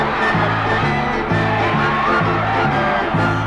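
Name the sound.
crowd cheering for Melvin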